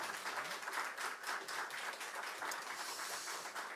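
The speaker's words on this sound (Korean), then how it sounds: "말씀 주신 선교사님께 고맙다고 박수 한번 더 하시겠습니다." Church congregation at a Wednesday evening worship service claps together for a visiting missionary, a steady dense wash of many hands at moderate distance, sustained evenly without pause.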